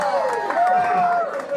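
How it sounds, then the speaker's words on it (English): Comedy club crowd at a live stand-up show cheers and claps, a loud steady roar filling the room, with a sustained voice-like tone rising through it and voices mixed in. "I need more applause."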